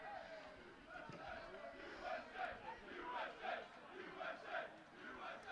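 Football supporters in a blue-clad stand at a men's varsity match roar and chant together, a loud, dense crowd swell with rhythmic surges and pulsing voices throughout.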